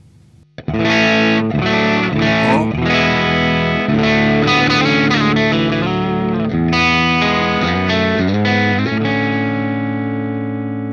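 Heavily distorted electric guitar through a Neural DSP Quad Cortex capture of a Marshall amp plays a loud, continuous riff with chords and fast note changes, sustained and saturated throughout.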